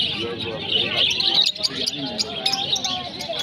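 A busy flock of parakeets chirps and squawks nearby at an animal and bird market, with a murmur of people talking underneath.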